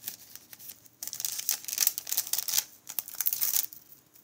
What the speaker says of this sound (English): And these are the self-seal plastic bags.